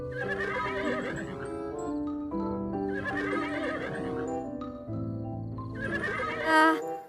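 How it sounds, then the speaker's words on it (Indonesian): A toy horse gives off repeated electronic neighing whinnies, about three in a row, with faint clip-clop hoofbeats, close and fairly quiet. "Ada mainan kuda."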